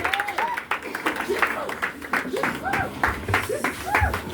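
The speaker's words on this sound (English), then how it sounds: "Let's clap to the Lord." A church congregation claps during a worship service, with dense, uneven claps under a voice that talks and sings over them throughout.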